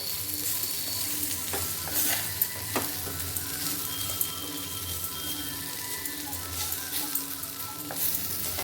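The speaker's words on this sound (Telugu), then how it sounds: "కొద్దిసేపట్లో కలబెట్టుకోవాలి కొంతసేపు అట్లా వేగిందనుకోండి అంత ఫైవ్ మినిట్స్లో అయిపోతుంది ఈ ఫ్రై" Raw banana slices frying in a pan with chili powder, giving a steady close sizzle with intermittent scraping and stirring clicks and no talk.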